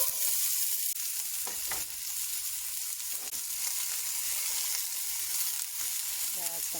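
Bacon fat sizzling in a hot pan, a constant bright crackling hiss that runs without pause, loud and close, with occasional small pops.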